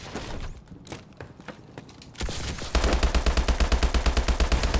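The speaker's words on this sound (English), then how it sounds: "That was miserable shooting." HBR assault rifle firing in the Call of Duty video game: after a few scattered shots, a loud, steady stream of rapid automatic fire rattles on at an even rhythm.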